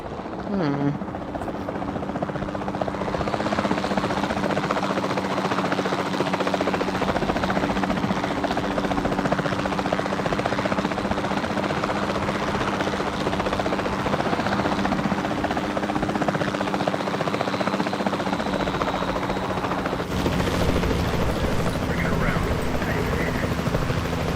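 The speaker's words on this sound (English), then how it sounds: "Then the sensible thing is to take a capture team helicopter." Capture-team helicopter in Jurassic World Evolution 2, a steady loud rotor drone with a low hum that stays continuous and near, with other game sounds mixed in under it.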